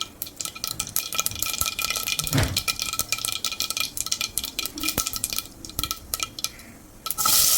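Onions frying in oil with mustard seeds, a close, continuous crackle and sizzle with scattered pops and a few utensil clinks.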